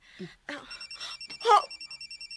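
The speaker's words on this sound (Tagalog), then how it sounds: "Uy, ati, imong cellphone, gibagting." A cellphone rings with a rapid, evenly pulsing electronic trill that repeats steadily, starting over several quick spoken exclamations and then continuing alone.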